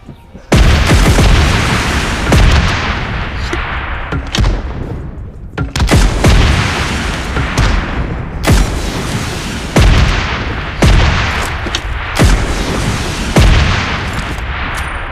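A grenade blast and heavy gunfire in the PUBG Mobile video game on a heavy weapons mode, with loud, dense, repeated booms and shots running almost nonstop and a few sharper blasts.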